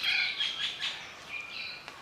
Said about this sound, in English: It's a bit noisy with all the bird life around.